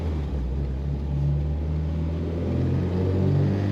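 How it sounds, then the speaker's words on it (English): A 1974 Volvo 1800 ES sport wagon with a 4-speed manual idles smoothly while still cold, giving a steady, close, low rumble that holds even throughout with no talking. "it is a smooth running little Volvo and shifts nicely"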